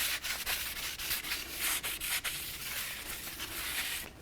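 Sanding and rubbing on the brake rotor of a 2008-2012 Jeep Liberty during a front brake job, a steady abrasive scrubbing with repeated strokes, close and fairly loud, with no talking.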